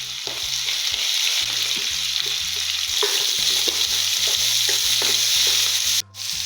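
Ginger, green chilli, curry leaves and onion fry loudly in hot oil for upma, a steady bright sizzle with repeated scraping stirs knocking through it, close and continuous.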